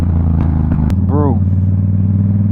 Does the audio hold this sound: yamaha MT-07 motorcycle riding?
yes